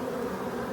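Honey bees buzzing around a hive frame during an evening swarm capture, a brief close, steady droning hum with no voices.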